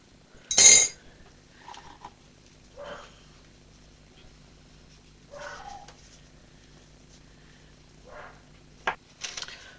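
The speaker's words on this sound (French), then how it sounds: "je vais faire ma vaisselle" Scattered clinks and clatters of dishes being washed, with a sharp clatter early on and softer knocks spread out among quiet pauses.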